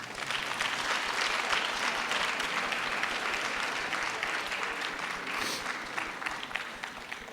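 A lecture audience claps steadily after the JL Dube Lecture by Professor Chad Berry, a broad, even wash of many hands at moderate distance that holds without pause throughout.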